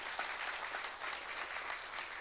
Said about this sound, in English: can I get a round of applause for the organizers of the forum?